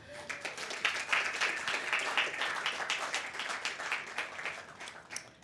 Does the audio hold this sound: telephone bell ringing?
no